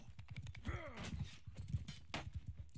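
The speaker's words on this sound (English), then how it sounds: "Let me steal the horse." Hooves clip-clop in a fast, steady rhythm as a horse gallops in the video game Bannerlord, and a whinny rises partway through over faint keyboard tapping.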